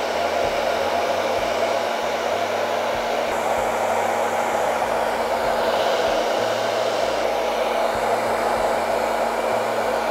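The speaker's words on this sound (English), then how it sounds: "But I like to use a diffusing sock. But this will dry the hair." A hair dryer fitted with a diffusing sock blows steadily while drying hair during a barbershop haircut, a loud continuous airy whoosh with a low hum, unbroken throughout and with no talking.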